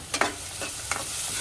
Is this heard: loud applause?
no